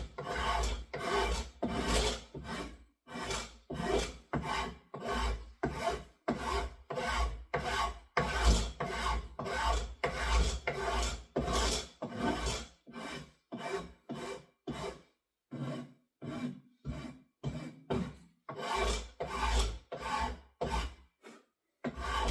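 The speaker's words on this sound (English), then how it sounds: "now I'm going to use a little bit finer file and see if I can smooth it out a little bit more" Hand filing with a finer file to smooth hand-cut checkering: rapid, regular rasping strokes, close and crisp, repeating steadily in back-and-forth rhythm with only brief pauses, no talking.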